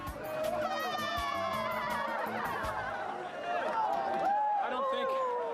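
Crowd cheering and chattering to congratulate amateur ice divers at the Harbin ice festival, a busy outdoor hubbub of many voices with whoops and laughter running steadily throughout.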